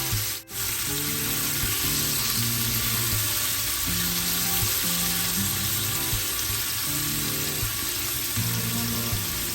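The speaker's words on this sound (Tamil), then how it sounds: "அதோட கருவாட்டையும் சேர்த்து வதக்க போகிறேன்." Dried fish fries briefly in oil for a tamarind porridge, producing a loud, steady close-up sizzle with light rubbing stirs against the pan and a short dip near the start.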